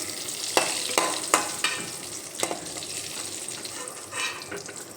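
Pointed gourd (potol) slices sizzling in hot oil in a pan, a steady frying hiss broken by several sharp clinks and scrapes as pieces are stirred and lifted out one by one.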